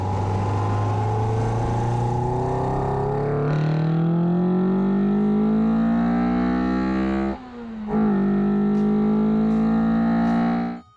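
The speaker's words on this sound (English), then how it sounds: "The individual throttle bodies gave the 4AGE blacktop a distinctive, high-pitched induction noise" Toyota AE111 with a 4AGE blacktop engine and individual throttle bodies, revving up in long climbing sweeps with a raspy, high-pitched induction howl, a brief lift and drop, then climbing again, loud and close.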